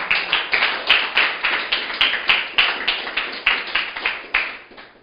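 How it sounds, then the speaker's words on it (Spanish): A church congregation claps in a steady rhythm, with about twenty crisp, evenly spaced beats running for five seconds at moderate loudness. "Aplauda al Señor."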